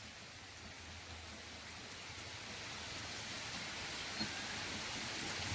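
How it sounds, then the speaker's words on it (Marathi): Heavy monsoon rain in Alibag falls as a steady, dense hiss of drops that builds slightly louder toward the end, with no voices. "दमदार एंट्री बघा पावसाची"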